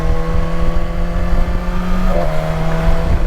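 A 2019 BMW S1000 XR HP motorcycle engine hums loud and close, its steady exhaust drone holding pitch before dipping slightly as revs ease, with no talking.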